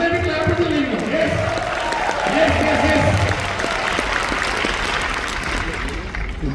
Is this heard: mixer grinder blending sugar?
no